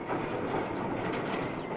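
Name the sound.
wiring train with wire drums moving slowly along railway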